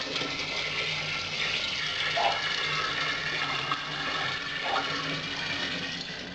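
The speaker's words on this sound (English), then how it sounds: "So I'm just going to pour this in." Liquid poured into a homebrew fermenter for hard seltzer: a continuous rushing, splashing flow that holds steady at moderate volume throughout, with no talk over it.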